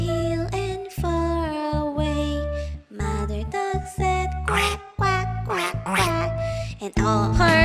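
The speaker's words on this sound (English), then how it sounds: "Mother duck said quack, quack, quack, quack" Repeated duck quacks sound within a children's nursery rhyme song about five little ducks, loud and rhythmic over sustained musical backing.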